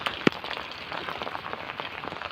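Steady rain falls hard outdoors on a village road in the morning, a dense even hiss with one sharp knock near the start and no voices.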